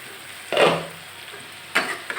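Sweet pumpkin frying in oil in a pan, a quiet steady sizzle broken by two short bursts of louder scraping and stirring.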